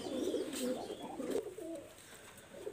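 Golai Lal pigeons, a master pair kept in Khulna, coo repeatedly close by in soft throaty rolling phrases, with a quiet pause near the end before another coo begins.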